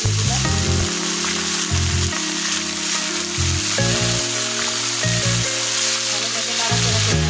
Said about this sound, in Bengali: গরুর মাংসটা আমি পেঁয়াজটা লাল লাল করে ভেজে নিয়েছি এখন মাংসগুলো আমি ছেড়ে দেব